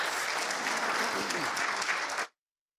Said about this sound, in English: let's give another loud applause to Lesley Cordero.